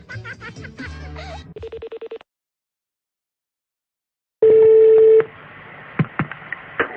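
A telephone call is placed: a burst of quick touch-tone dialing beeps, a short pulsed ring, silence, then a loud steady ringback tone followed by a quieter line with faint clicks and knocks.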